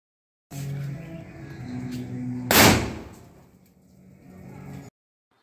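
A handmade Valangaimaan nattu vedi paper firecracker detonates in a single sharp, loud bang about midway, trailing into a fading rumble over outdoor background noise.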